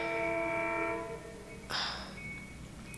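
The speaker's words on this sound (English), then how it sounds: "I live right next to the train tracks, and it's super annoying when the train goes by" A train passes on tracks right beside a home, its horn sounding a sustained chord that fades, then a burst of rushing rail noise and a brief second horn note near the end, heard fairly quietly.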